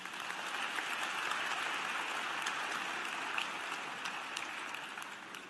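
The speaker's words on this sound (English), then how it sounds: "Please give our faculty members a round of applause." Commencement audience at North Carolina Central University applauding its faculty members, a steady dense wash of clapping from a large crowd that holds even throughout, heard at some distance with no voices over it.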